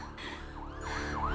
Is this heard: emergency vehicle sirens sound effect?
yes